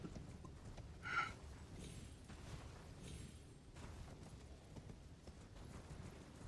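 Horse hooves clip-clopping during a ride in Elden Ring, faint and steady, with a single brief louder accent early on over quiet game ambience.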